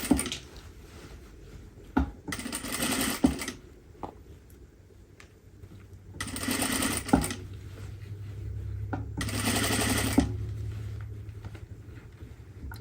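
An overlocker serger stitches along interfacing in bursts, each run a fast close mechanical whir lasting about a second or more, separated by pauses with small clicks and handling noise.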